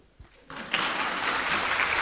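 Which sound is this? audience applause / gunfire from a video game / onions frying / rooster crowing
audience applause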